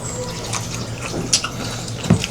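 Sea hare eggs washed by hand in water for a coconut-milk dish in the Philippines, with soft sloshing and a few drips and small splashes under low background noise, and no talking.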